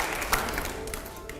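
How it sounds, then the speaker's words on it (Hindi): Recorded applause sound effect played back during a televised Hindi interview, a steady wash of clapping with a faint tonal undertone and a few sharper claps standing out. "जोरदार तालियां प्ले करिए जरा"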